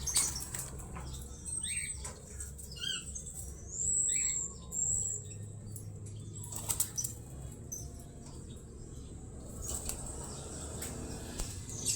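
Pet pigeons kept in an outdoor viewing area, with several short bursts of wing flapping and brief chirping calls over a steady low background hum, fairly close and moderately loud.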